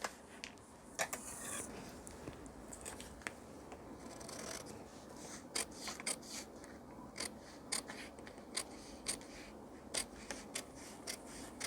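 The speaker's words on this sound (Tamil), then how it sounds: "இப்போ நாம் ஃப்ரண்ட் அப்படியே கட் பண்ணி எடுத்துடலாம்" Scissors cut blouse fabric in a quiet room, giving a series of crisp, close snips at irregular intervals over a soft background of rustling and scraping cloth.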